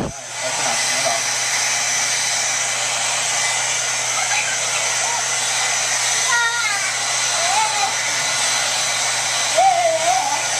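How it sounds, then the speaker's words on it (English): A hair dryer blows steadily and loudly from start to finish, a continuous broadband whoosh with motor hum underneath, joined by faint background voices and a few brief vocal sounds near the end. "All right, so now she's done blow drying our hair."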